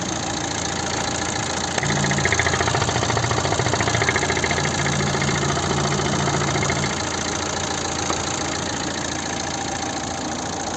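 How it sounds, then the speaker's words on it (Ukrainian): A 1.7 diesel engine of a 2011 Opel Zafira idling steadily nearby, with a constant rough, knocking chug throughout and no talking. "Класно працює двигун тут."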